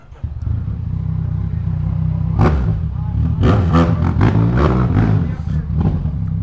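Yamaha MT-09 motorcycle with an engine remap, a loud continuous engine drone with several sharp revving bursts and crackling exhaust pops, close by, with voices talking over it.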